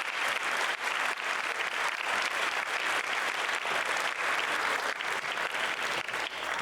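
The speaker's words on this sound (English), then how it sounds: "Let's give all of those students an extra special round of applause." An audience at a school STEM fair awards ceremony claps steadily and warmly for students, a dense, even round of applause that fills the whole stretch with no talk over it.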